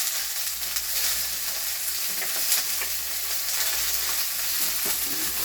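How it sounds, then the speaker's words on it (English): Peppers fry in olive oil with garlic, a continuous close hiss and crackle of sizzling, steady throughout with small pops. "we've had these frying now for a little bit now, not really long, but it's starting to get a nice little char to them"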